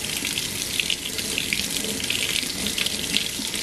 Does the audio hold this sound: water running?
yes